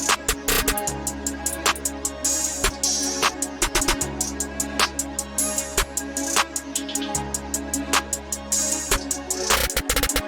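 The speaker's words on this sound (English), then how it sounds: "But overall, the finished snare pattern sounds like this." A snare pattern with rolls in an FL Studio beat built around a bouncy drum style: crisp, rapid hits and quick rolls repeat over steady low sustained tones, loud and continuous with no voices.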